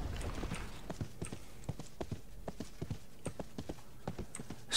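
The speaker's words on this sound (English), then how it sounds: "get on the old horse, eh?" Horse hooves clip-clop in a steady trotting rhythm as a mount moves along in the online fantasy game RIFT, a quiet, even sequence of hoof strikes over faint background ambience.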